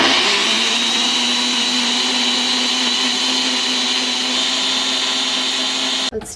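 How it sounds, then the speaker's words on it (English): A Ninja blender whirs steadily through salsa ingredients, a loud continuous motor drone lasting several seconds before stopping abruptly near the end. "Here's everything into the blender."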